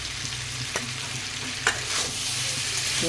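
Magur fish being stir-fried with kohlrabi and potato in a pan, a steady close sizzle with occasional scraping strokes of the spatula, no talking.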